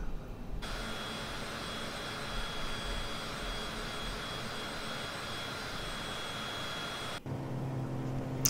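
Steady droning engine of a Cirrus light aircraft cruising in Microsoft Flight Simulator, a constant broadband roar from the cockpit that drops abruptly near the end to a quieter tone.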